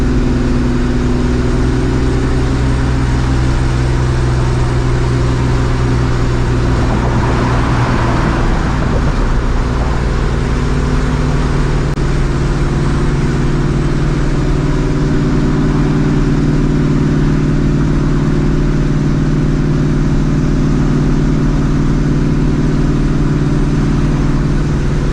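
Supercharged New Edge Mustang GT with a Vortech V1 Ti-Trim blower idling, a loud, steady low engine drone close up that holds throughout with slight shifts in tone and no talking.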